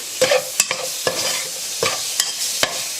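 Beef and bell pepper frying in a hot pan for a spicy casserole, stirred in sharp scraping strokes roughly every half second over a steady close sizzle.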